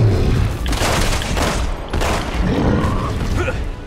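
Dense gunfire bursts and booming shots in the video game Resident Evil 6, a loud continuous fusillade with mechanical clanks, filling the whole stretch without pauses.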